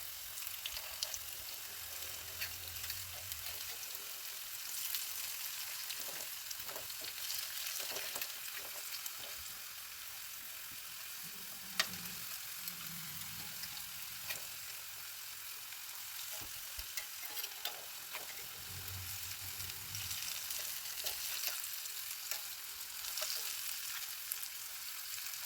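Karakarani fish fries in a pan of oil with a long, steady, faint sizzle and occasional small crackles and stirring bumps, close by and without voices.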